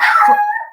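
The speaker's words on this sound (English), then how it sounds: "apologies for the puppy barking in the background." A puppy barks and yelps in a short, loud, high-pitched burst that trails into a brief howl, heard alone with no talking.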